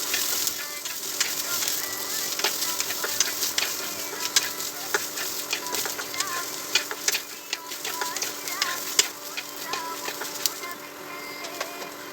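Ginger and garlic frying in oil for a beef kurma in a village kitchen in Ooty, giving a continuous crackling sizzle with frequent small pops and spits, close and steady throughout, with no talking.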